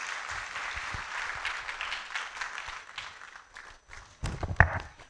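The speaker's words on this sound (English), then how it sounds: "Let's give them a round of applause." A lecture audience applauds with steady clapping that gradually thins out, ending with a few louder thumps.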